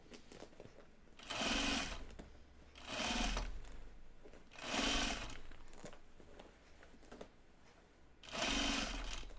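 A sewing machine stitches jeans in four separate runs of a second or so each, close and clear, with short pauses between them and the last run including a back tack.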